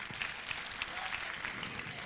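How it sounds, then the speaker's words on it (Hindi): A faint audience applause plays alone, steady clapping from a crowd at a motivational talk, heard at a distance without voices. "जोरदार तालियां।"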